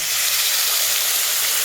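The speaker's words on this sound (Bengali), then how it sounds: "এবার একটু জল দিয়ে দিচ্ছি" Water hitting a hot pan of frying green peas, chilli and pui greens releases a steady, loud hiss of steam and sizzle that holds evenly throughout, with no talking.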